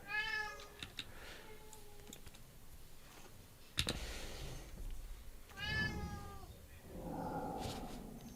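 A house cat meows near a computer during online card play, two drawn-out meows several seconds apart, mixed with keyboard and mouse clicks and a sharp thump between them.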